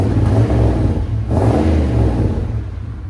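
A 1994 Chevy 1500 pickup with a 5.7L V8 and Flowmaster 40 Series exhaust revs up, a loud, deep throaty drone that dips briefly and climbs again, steady and close with no talking.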